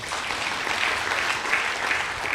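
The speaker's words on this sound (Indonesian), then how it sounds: "Tepuk tangan buat Tuhan." A church congregation breaks into steady, fairly loud clapping that stays even and unbroken for a couple of seconds.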